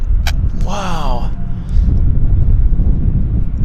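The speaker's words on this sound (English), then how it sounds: "I hear a large airplane on the other end there, on the other side." A large Korean Airlines airliner at Vancouver airport gives off a steady, distant low roar that runs throughout, with a brief voice-like call early on.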